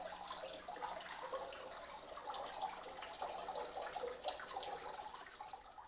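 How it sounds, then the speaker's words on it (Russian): A small indoor decorative waterfall trickles and splashes softly in a winter garden, a faint, continuous running-water sound close by with no talking. "водопад я свой выключила"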